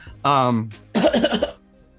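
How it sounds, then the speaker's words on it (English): A couple of close, harsh coughs, one short burst followed by a longer rough one, with brief pauses around them. "he's making me cough."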